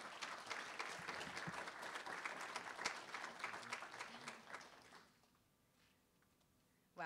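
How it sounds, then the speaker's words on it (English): Applause for the introduction of the executive director of Volunteer Emory at a keynote event, dense clapping that runs steadily for about five seconds and then fades out, with a quiet room afterward and a brief noise at the end. "if you give a big round of applause to Blair Eli"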